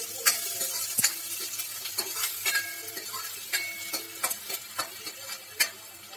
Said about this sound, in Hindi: ये 2 मीडियम प्याज काटी हैं बारीक, तेज गैस करना है, तेज गैस पर भून देता हूँ।